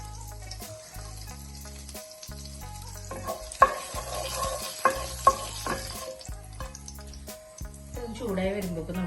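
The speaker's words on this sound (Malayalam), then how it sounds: "എണ്ണ ചൂടായി വരുമ്പോൾ ഇതിലേക്ക് ചെറിയ ജീരകം, പട്ട, കറയാമ്പൂ, പിന്നെ ഏലക്കയുടെ കുരു ഇത്ര ആഡ് ചെയ്ത് കൊടുക്കുന്നത്" Whole cumin, cinnamon, cloves and cardamom seeds sizzle in hot oil for chana masala, a continuous crackling hiss with a few sharper pops, heard under a speaking voice and a tonal background.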